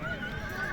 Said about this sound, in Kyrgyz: Ушуга карат негизи жакшы ат көрүнөт